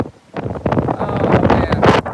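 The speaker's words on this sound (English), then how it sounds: "there's a little gust of wind" Wind noise from a gust buffeting an outdoor microphone during Hurricane Sally, a loud, rumbling, uneven roar that swells and keeps blustering throughout.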